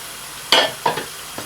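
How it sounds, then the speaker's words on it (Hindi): Chana dal and moong dal tipped into a hot pan: a sharp burst of sizzle followed by a couple of shorter scraping stir sounds and a faint final tap, brief and close. "इधर हम ऐड करेंगे जब हमारी दाल है, ये चने की दाल,"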